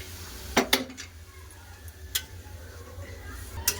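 Cholar dal goes into a cooking pot with a few sharp metallic clinks of a spoon against the pot over a low kitchen hum.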